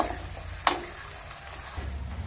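Ginger paste frying in a pan with a soft, steady sizzle, and one sharp clatter of a spoon stirring it, fairly faint and close.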